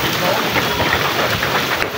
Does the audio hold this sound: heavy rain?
yes